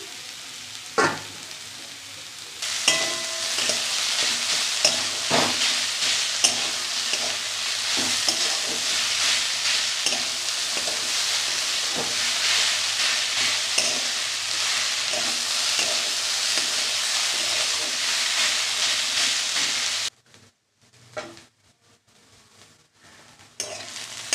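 An egg cooks in a hot oiled pan for an egg curry, a long, steady sizzle with scattered clicks of utensils, briefly dropping to near quiet before the hiss returns.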